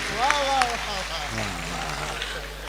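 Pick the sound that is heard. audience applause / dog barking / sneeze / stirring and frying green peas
audience applause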